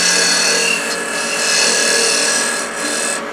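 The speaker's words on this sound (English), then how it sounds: "I'm just going to use the parting tool, and we're just going to start to go down" A parting tool bites into spinning wood on a lathe, giving a loud, continuous scraping hiss with slight swells in intensity, heard up close and alone.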